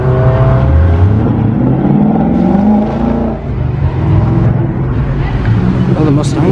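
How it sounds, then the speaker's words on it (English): A Ford Mustang pulls hard away from a classic car show, its engine note rising and falling through the gears. A voice talks over it in a loud outdoor crowd. "Quite abrupt departure. Mustang."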